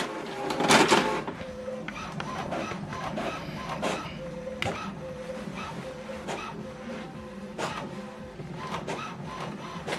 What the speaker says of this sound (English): right now it's printing the alignment page